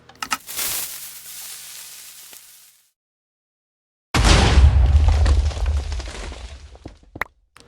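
Video game weapons all firing at once: a loud burst of booming blasts that tails off, a moment of complete silence, then a second, heavier rumbling barrage with crackling pops near the end.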